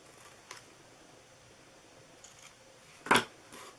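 Scissors snip through paper while a gnome-themed Christmas treat box is being made, giving one loud sharp cut near the end and a few fainter snips earlier, close and alone with no talking.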